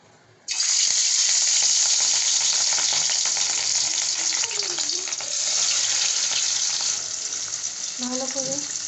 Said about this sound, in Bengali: মাছটাকে আমি এখন তেলে ছেড়ে দিব।